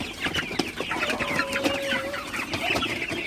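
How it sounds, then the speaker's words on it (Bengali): Sonali super hybrid chickens cluck steadily and close by while eating feed at night, with overlapping soft clucks and pecking under a continuous farmyard hum. "মুরগিগুলোকে রাতের বেলায় খাবার দিলাম"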